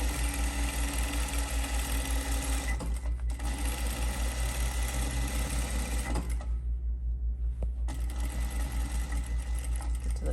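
Sewing machine stitching a rolled hem on a cotton-style market tote, a steady fast mechanical whir running throughout with brief pauses in the stitching rhythm, close and continuous.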